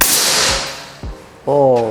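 A powerful big-game air rifle fires during chronograph testing, giving a sharp crack followed by brief echoing snaps, then a voice begins speaking.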